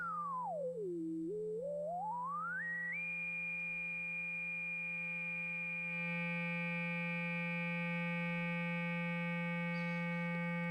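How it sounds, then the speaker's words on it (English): A synthesizer filter self-resonates into a pure sine tone that sweeps down, then climbs and settles into a steady whistle-like pitch that holds, joined by a low steady hum. "the filter will do what's called self-resonating, and you'll just get an actual sine wave"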